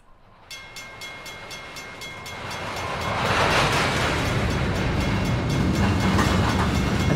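Rolling freight wagons in the Trainz video game with modified slack action sound, a low rumble that grows louder after a few seconds into steady rail noise with faint rhythmic clicks and no voices.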